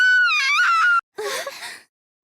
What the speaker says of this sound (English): Did someone just scream?